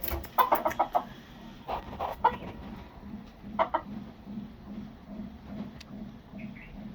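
A native village chicken about to be cooked into a potato curry clucks in short, close bursts spread across several seconds, with quieter gaps between calls.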